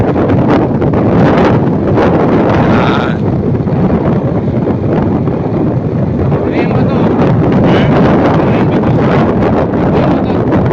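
Steady, heavy wind on a mountain buffets the microphone throughout, a constant roar with gusty rustling, while a person speaks briefly over it.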